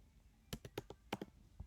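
A name is typed on a computer keyboard: about eight soft, close keystrokes in an irregular patter over a quiet background hiss, with no voices.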